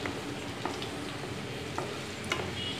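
Semiya upma being stirred as it fries in oil in a pan, a steady broadband sizzle broken by a few soft scraping strokes of the spoon, close and moderately loud with no talking.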